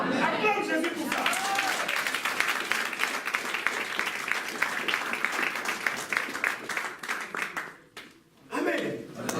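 A church congregation claps and cheers in acclamation, dense applause with voices mixed in, tapering briefly near the end before picking up again.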